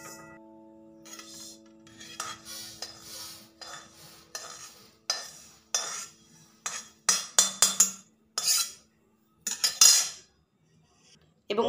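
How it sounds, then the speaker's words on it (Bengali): Roasted sesame seeds scraped and poured from a metal wok onto a plate, heard as close bursts of metallic scraping and rattling that become louder and more frequent in the second half, with faint steady tones at the start. "এবার এটাকে আমি একটা থালায় ঢেলে নেব।"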